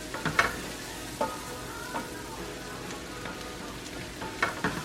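Mushrooms for cowboy stew sauté in a pan with a steady soft sizzle, broken by several scraping stirs of a utensil against the pan, close and moderately quiet.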